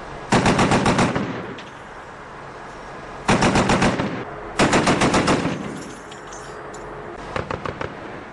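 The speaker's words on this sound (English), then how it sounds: "American gunners laid into suspected Taliban positions." Machine guns, two 240s and a .50 caliber, fire from a remote firebase in Afghanistan near the Pakistan border at night, loud rapid bursts of about a second each, separated by pauses, with a short distant burst near the end.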